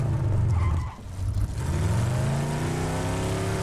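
A video-game car engine revving hard, loud and steady, dipping briefly before climbing again in a long rising whine, with no talk over it.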